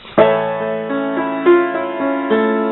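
A piano chord struck and left ringing, with a few more notes added on top while the earlier ones keep sustaining together, no voices.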